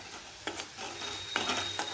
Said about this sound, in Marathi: हे चांगलं हलवून घ्यायचं आहे